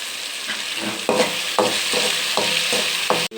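Food frying in a pan with a spoon stirring it, a steady loud sizzle broken by regular scraping strokes roughly every half second, close up with no talk.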